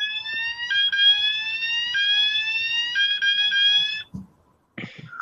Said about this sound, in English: Yeah, so it's a Flashni fire alarm,